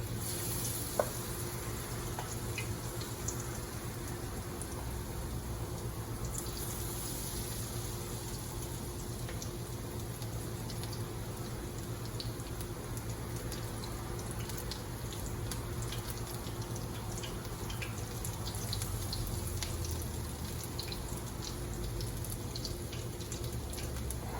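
Beer-battered mushrooms fry in a small skillet of hot grease, giving a steady, close crackling sizzle with scattered pops and bubbling that holds evenly throughout, no voices.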